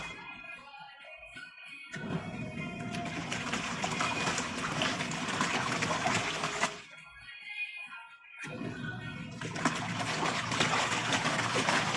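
Cosway washing machine running a cold-water cycle, with bursts of gushing and trickling water filling the drum, pausing briefly between long steady stretches, close and moderately loud.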